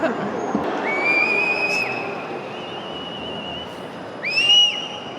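Football fans in a packed stadium crowd whistle high and sustained over a dense roar of crowd noise, with a louder rising whistle near the end.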